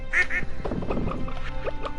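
Ducks quack on a farm in the video game Stardew Valley, with a couple of bright quacks early and scattered softer ones over steady background game music.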